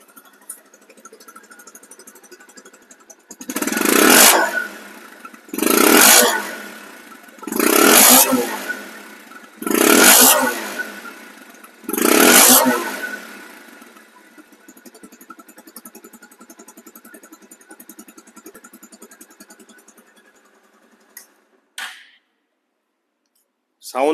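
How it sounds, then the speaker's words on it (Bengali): A 2021 Pulsar disc-brake motorcycle, a used bike in showroom condition, idles after a single kick start and is revved in five strong, evenly spaced bursts before the engine cuts off. "এক কিকে কিন্তু স্টার্ট হয়ে গেছে এবং শোরুম কন্ডিশন সাউন্ডটা একটু দেখে নেন"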